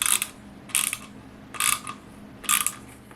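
A ratcheting driver clicks in four short, evenly spaced bursts while screws are driven back into an Anzo Switchback headlight assembly for a 2015 LML Silverado truck, close and crisp against a quiet background.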